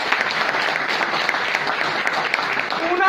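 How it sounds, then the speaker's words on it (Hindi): A gathered audience applauds Singh Sahab with steady, continuous clapping that runs at an even, moderately loud level from start to finish. "जोरदार सिंह साहब के लिए ताली।"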